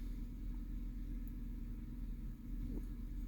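A 2009 Chevy Silverado 5.3L V8 idling rough with a cylinder 2 misfire, a low, steady engine rumble that stays fairly quiet and uneven throughout, with one brief dip.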